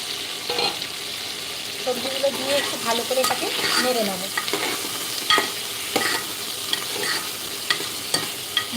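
Mixed vegetables are stirred in a sizzling pan for a vegetarian fast-day meal, with close scraping and clattering strokes over a steady frying hiss.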